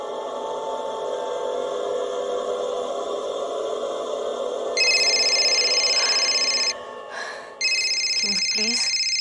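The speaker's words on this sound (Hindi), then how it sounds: "Please change your stupid ringtone." A steady electronic phone ringtone plays loudly, then shifts to a sharper two-tone trill that cuts out briefly and resumes.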